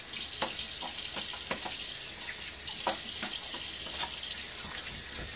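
Tap water runs steadily into a sink for a shaving rinse, a close hissing splash broken by irregular splashes and drips as hands move under the stream, with no talking.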